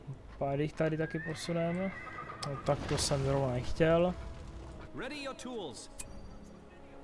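Horses in the video game LOTR Battle for Middle-earth II neighing repeatedly in several whinnies with clip-clop hooves, while someone talks over the game sounds.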